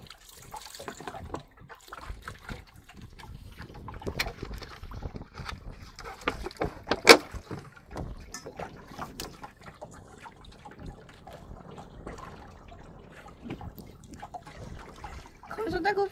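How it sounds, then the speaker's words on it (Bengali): Water splashing and trickling as a pomelo is washed by hand, set outdoors near a river during stormy weather; soft, irregular wet splashes and dribbles run steadily at close range, with a sharper splash partway through and some background noise. "তো জল দিয়ে লেবুটা ধুয়ে নিচ্ছি।"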